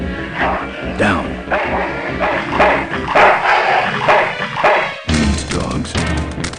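An ill-tempered mongrel dog in the adventure game Full Throttle barks and yips repeatedly and loudly, mixed with crashing and thwacking noises.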